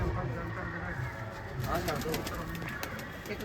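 Pigeons let loose on a rooftop along Sultanwind Road, with steady cooing and soft fluttering close by and a voice talking over the birds throughout.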